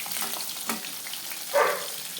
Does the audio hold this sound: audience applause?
no